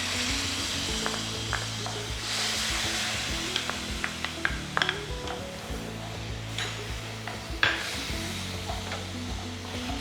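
Puree of a medium tomato stirred into a hot pan for a creamy mushroom curry, giving a steady loud sizzle with scraping spoon strokes and occasional sharp clinks against the pan.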